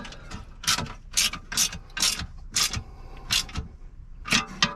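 Ratchet wrench clicking in repeated bursts while tightening acorn nuts on the bottom X brace of a Lockerdown truck bed safe in a 2015 Ford F250, close and crisp with short pauses between strokes.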